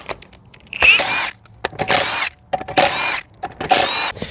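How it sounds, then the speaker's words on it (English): Impact wrench with a 19 mm socket removing a car suspension nut: four loud, close bursts of rapid hammering, each about half a second long, separated by short pauses and faint clicks. "let's grab that impact with the 19 mil"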